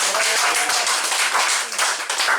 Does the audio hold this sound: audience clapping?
yes